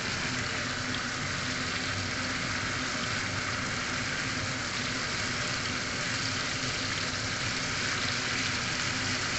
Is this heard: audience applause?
no